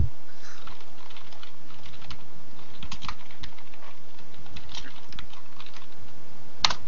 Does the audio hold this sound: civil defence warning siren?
no